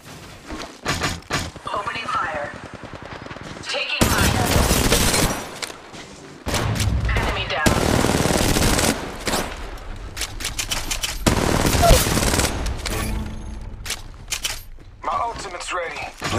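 Kraber sniper rifle fire in Apex Legends Mobile, with heavy shots and bursts of gunfire erupting repeatedly amid game effects, close and loud, while a game announcer voice speaks between them.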